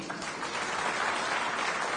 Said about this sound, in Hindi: तो नीतीश बाबू के लिए ताली बनती है ना।